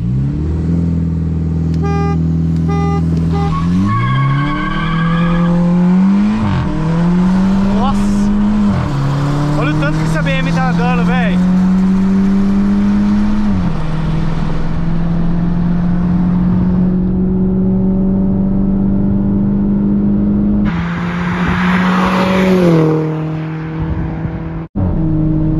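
A Mini Cooper S and a BMW 320, both stock, accelerate hard from a launch, engines rising and dropping through several gear changes at loud, close range, with people talking in the car.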